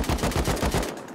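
Rapid gunfire from the survival video game Rust, a burst of about eight evenly spaced close shots crackling across roughly a second before cutting off.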